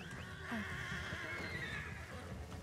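A horse gives a long, loud whinny that rises and falls, close and clear, with soft hoof shuffling and a steady rumbling background under it.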